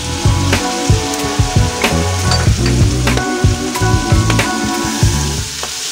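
Tomatoes sizzle loudly as they are stir-fried with moringa pods in a pan. Steady frying crackle is punctuated by repeated knocks and scrapes of a spatula stirring, close and with no talk.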